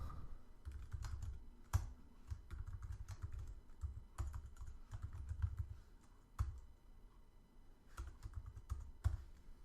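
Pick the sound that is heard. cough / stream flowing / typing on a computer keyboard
typing on a computer keyboard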